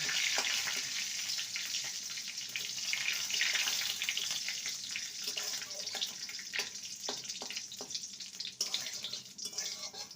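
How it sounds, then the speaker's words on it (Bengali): Whole spices and a dried red chili crackle and sizzle steadily in hot oil, a dense continuous frying hiss with occasional sharper pops, close up and with no voices. "আর একটা গোটা শুকনো লঙ্কা ফোড়নটাকে কয়েক থেকে ভেজে নেব"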